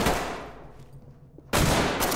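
Gunfire in the tense SWAT shooter game Ready or Not: a loud burst of shots that decays into a fading echo, then another sharp volley cracks out about halfway through, close and dominant with no talk.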